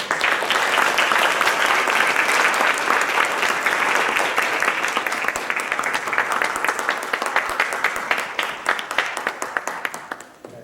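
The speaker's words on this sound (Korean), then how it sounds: "우리 모든 분들께 감사의 박수" A church congregation at a Sunday worship service bursts into sustained applause, dense and loud at first, then thinning into scattered claps before fading out.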